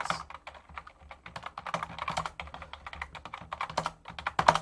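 Rapid typing on a computer keyboard during a livestream, a dense, steady patter of crisp keystrokes close to the mic, continuing throughout with no voices.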